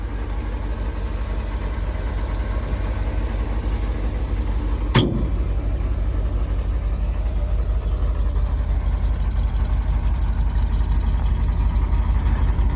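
A 1972 Chevrolet truck, a 5-speed with a 2-speed rear, idles steadily after a carburetor repair, a low even engine rumble running the whole time with one brief sharp click midway and no talk.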